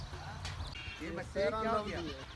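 Goats at a masara goat farm in Al Ain bleat close by, a short call followed by a longer wavering one, over a low rumbling background.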